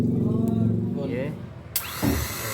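A Mercedes E230 New Eyes with a broken starter motor is being started. Its engine turns over and rumbles, then gives sudden loud bursts close by, while people talk over it.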